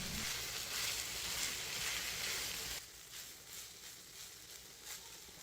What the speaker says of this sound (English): keep stirring to ensure the mince cooks evenly